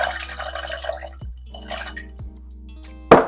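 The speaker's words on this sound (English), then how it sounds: "So I'm gonna pour some peanut." Peanuts drop into water for a Jamaican strong back drink with wet pattering and dripping, followed by two soft knocks and a sharp splash near the end, close by with no talking.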